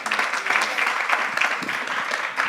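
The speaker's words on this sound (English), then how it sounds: "Can I get a very big applause?" Steady audience applause at a startup pitch stage, a dense, even wash of many hands clapping at once, moderately loud and continuous, with no voices over it.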